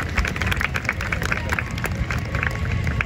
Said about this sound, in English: So huge round of applause for our tiny tots.